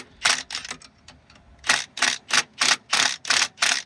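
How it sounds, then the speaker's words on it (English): A heavy steering wheel puller being worked to draw the wheel off a 1995 LT1 car, giving a quick run of sharp clicks followed by a steady series of eight or so loud, evenly spaced ratcheting bursts, close up with no talk. "we had to pull out the big boy steering wheel puller"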